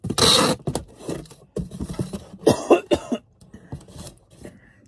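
A few harsh, close coughs and throat clearings in uneven bursts, separated by short pauses with faint rustling.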